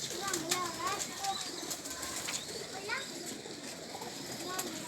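Domestic pigeons at a pigeon keeper's loft in Faisalabad, with soft cooing and brief wing flaps heard faintly beneath children's voices and nearby talk.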